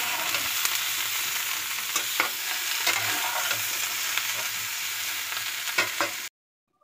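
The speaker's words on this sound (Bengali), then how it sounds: "এখন আমি ফুলকপিটা ভেজে নিচ্ছি, ফুলকপি আলুটা গোটা জিরে ফোড়ন দিয়েছি" Cauliflower and potato pieces fry with whole cumin seeds in a pan, giving a dense, even sizzle with occasional stirring clicks and scrapes, close by, before cutting off abruptly near the end.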